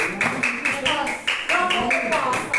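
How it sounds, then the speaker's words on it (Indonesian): A classroom of students claps their hands together in a quick, rhythmic series of bursts, loud and close, while voices chant along with the beat. "Tepuk tangan. Tepuk tangan."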